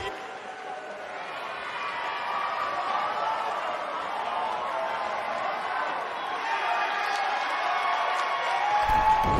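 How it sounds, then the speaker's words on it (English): Arena crowd in the WWE 2K19 wrestling video game cheering continuously, a dense roar that swells slightly toward the end, with no commentary over it. "You're watching WWE live from Los Angeles, and boy, is this crowd fired up."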